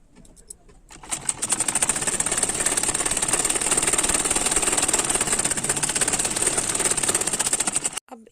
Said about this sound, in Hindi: अब हम इसमें सिलाई लगा लेंगे।